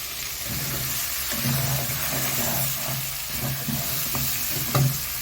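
Sliced onions frying in ghee in a single pot for Egyptian-style Saudi chicken kabsa, giving a steady close sizzle with occasional stirring scrapes and a few clinks, no voices.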